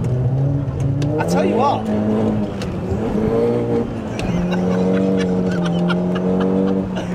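A 400-horsepower Seat Leon Cupra K1 engine hums and revs while driving, rising in pitch briefly before settling into a steady drone, with someone talking over it from inside the car.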